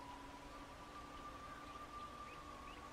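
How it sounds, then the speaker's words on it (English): Steady rain falls as a continuous even hiss of drops in a 7 Days To Die game scene, with faint tonal hum underneath and no voices. "it's cold and raining out"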